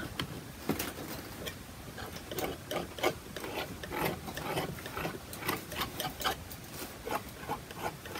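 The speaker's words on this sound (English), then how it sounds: "Can you see how I'm rubbing? I'm actually rubbing." Cold wax being rubbed onto a landscape painting, a faint, repetitive scratchy rubbing in quick uneven strokes, close and quiet.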